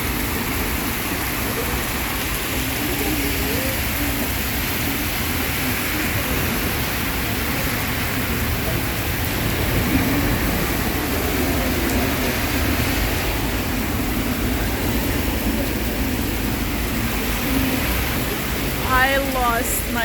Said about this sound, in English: Now I'm getting rained on.